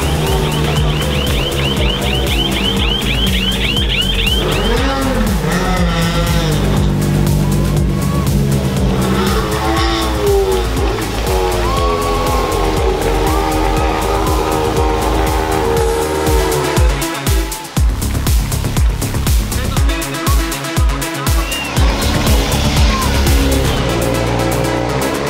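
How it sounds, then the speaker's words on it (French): Rally1 cars, including Hyundai WRC entries, roar past at the Acropolis Rally in Greece. Loud engine notes rise and fall through successive pass-bys, with revving, gear changes and crackling bursts close to the roadside. "quand on a les pilotes de rallye 1, ça fait beaucoup plus de bruit"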